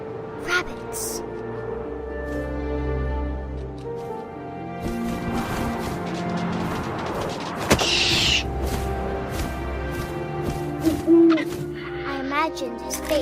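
An owl hoots in What Remains of Edith Finch, recurring amid game music and ambient sound with occasional soft thumps, while a narrator speaks over it.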